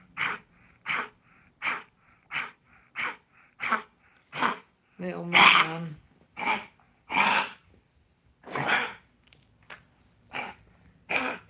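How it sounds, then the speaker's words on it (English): A sick pug struggling to breathe gives a regular series of rasping, wheezing snorts, close by, roughly one per second, with someone speaking softly between them. "He's having a bit of trouble breathing at the moment, that's the problem."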